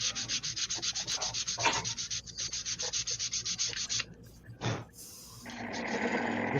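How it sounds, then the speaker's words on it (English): Sandpaper rubbed over a wooden table in steady, rapid back-and-forth strokes, close and fairly loud, pausing near the end with a few knocks and a hissier scrape; faint voices in the background. "This sandpaper ain't too hot"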